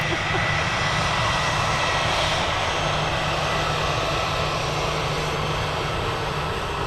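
Steady broadband roar of an EasyJet airliner at Manchester Airport, heard from a distance as the jet engines run on continuously with no clear rise or fall in level.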